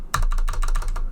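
A Corsair computer keyboard being typed on up close: a quick run of about ten crisp, loud key clicks in steady rhythm, heard alone over a faint low hum.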